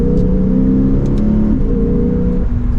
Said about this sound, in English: you can't go wrong with that 5-liter V8.